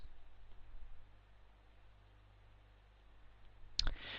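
A computer mouse gives a single sharp click near the end, following a few seconds of quiet background hiss.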